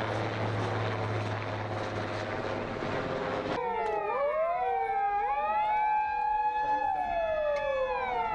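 A helicopter's steady roar fills the first few seconds during a flood rescue and medical evacuation drill in Ibaraki, Japan, then wailing emergency sirens take over, sweeping up and down in pitch.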